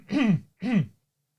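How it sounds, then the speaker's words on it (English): Two short, rough throat-clearing bursts from a nearby man, each about a third of a second with a brief gap between, followed by quiet. "excuse me, just clearing my throat there."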